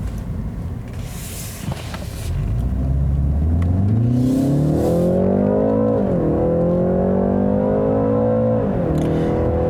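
2019 BMW 330i xDrive turbocharged engine pulls away, a quiet idle swelling after a brief lag into a loud, rising drone that climbs through gears with two short dips at upshifts, close and unaccompanied by talk.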